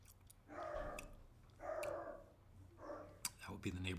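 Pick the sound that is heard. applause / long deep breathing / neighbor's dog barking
neighbor's dog barking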